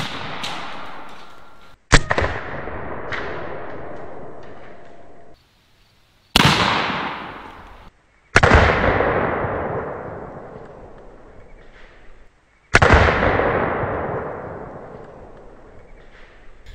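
An AEA Zeus air gun fires slugs at a stack of 2x4 boards outdoors, giving four loud, sharp reports spread irregularly over the span. Each blast has a long, decaying rumble and echo, and the gaps between them are near silent.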